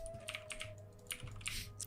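Clicks of computer keyboard typing in an AI-generated video come in quick, irregular clusters of keystrokes, faint and close, with no talking.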